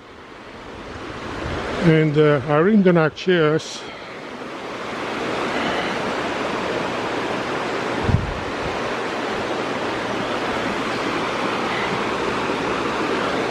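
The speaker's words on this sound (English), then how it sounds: "Those two rivers right here form this beautiful cascade." Water cascades steadily where two rivers meet near Sperryville, Virginia: a constant broadband rush that fills the whole stretch, with a person talking briefly near the start.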